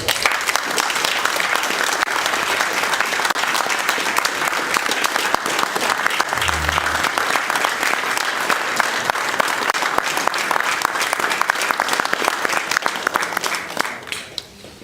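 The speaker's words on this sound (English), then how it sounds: "let's give them a round of applause" Audience applause fills a county commission meeting room, a dense, steady round of clapping from a crowd that holds for about fourteen seconds before tapering off at the end.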